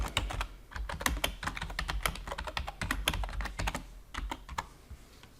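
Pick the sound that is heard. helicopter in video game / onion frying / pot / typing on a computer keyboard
typing on a computer keyboard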